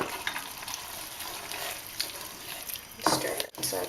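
Lobster pieces hit a hot pan of tomato and pepper sauce seasoned with ketchup, giving a steady close sizzle and bubbling fry with a louder burst of stirring and spattering near the end.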